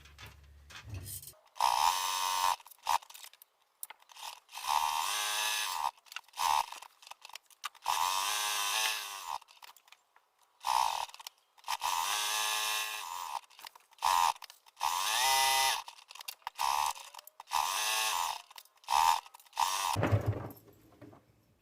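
A sewing machine stitching fabric on a scissors holder project runs in repeated bursts of steady mechanical whirring, starting and stopping several times, loud and close, with no talk.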